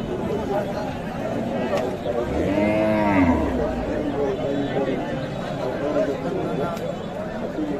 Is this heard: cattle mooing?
yes